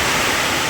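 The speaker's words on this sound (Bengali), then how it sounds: "দেখো এখানে জল পড়ছে, এখানে জল পড়ছে।" Water pours steadily from a newly fitted 500-litre water tank, a continuous close splashing rush with no voices.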